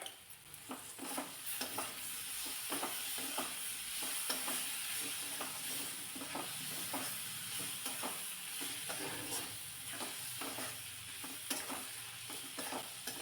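Finely chopped medium tomato sautéed with homemade black masala in a pan: a faint, steady sizzle with repeated soft scraping stirs of a spoon at an irregular rhythm, with no talk.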